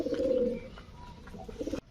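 A pair of homing pigeons coo softly and repeatedly, low throaty calls rising and falling close by over a quiet background, with no talking.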